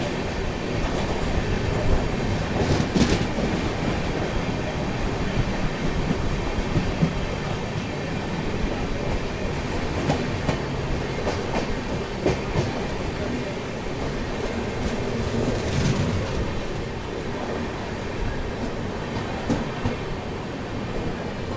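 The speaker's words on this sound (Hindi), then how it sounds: "ये निकल रही है आपकी चेन्नई राजधानी।" The Chennai Rajdhani Express from Hazrat Nizamuddin to Chennai Central passes through a station with a continuous, loud rumble and clatter of wheels and coaches. Faint voices sound beneath it.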